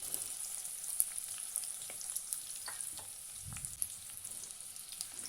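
Chopped onion and crushed garlic fry in hot mustard oil for a Bengali loitta shutki bhuna, a constant close sizzle broken by scattered clicks and scrapes of a spatula stirring; no voices.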